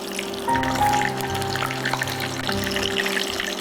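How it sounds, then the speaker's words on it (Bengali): Spicy chicken sausages frying in hot oil in a home kitchen, a steady soft bubbling hiss with a faint hum underneath, moderately quiet and continuous. "চিকেন সসেজগুলো আমি দিয়ে দিচ্ছি তেলে"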